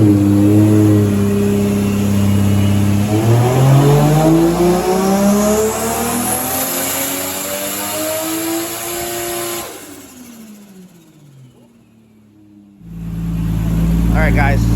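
A Toyota Soarer JZZ30 with a big turbo revs hard on a dyno, its loud engine note climbing steadily in pitch for several seconds, then dropping away to near quiet before the engine drone returns.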